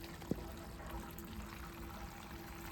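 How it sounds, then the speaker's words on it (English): An aquarium gravel vacuum siphon pulling water from a cichlid tank, a faint, steady trickling and pouring flow with a single small click near the start. "you just pump up this and it starts sucking the water."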